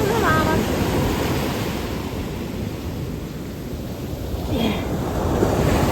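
Ocean surf at a beach on a New Year's day trip, a continuous broad roar of breaking waves with wind rushing across the microphone, loud and steady with a slight swell toward the end.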